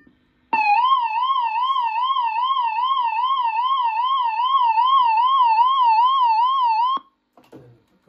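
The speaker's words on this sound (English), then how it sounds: "So if you had a hand crank siren in a pub somewhere or a hospital," A hand-crank air-raid siren, model WB1400, wails rising and falling with a fast regular warble, steady and loud for about six seconds before cutting off abruptly.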